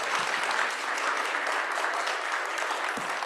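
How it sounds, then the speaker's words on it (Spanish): An audience at a talk on a judicial electoral process applauds the speaker with sustained, even clapping from many people, fairly loud and close throughout. "Les damos un aplauso."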